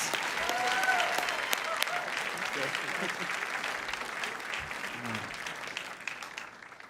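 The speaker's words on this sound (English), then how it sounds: "How about a big round of applause?" Audience applause at a mountaineering club gala, a large crowd clapping warmly, loudest at the start and slowly tapering, with a few voices and cheers rising through it.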